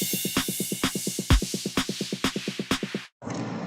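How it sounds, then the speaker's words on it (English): Within an EDM production, a bright crash cymbal hit washes over a rapid, evenly pulsing electronic beat and smoothly blends into a descending noise downer sweep, which cuts off abruptly before a quieter noisy tail. "You can kind of hear how the crash symbol blends smoothly into the noise downer."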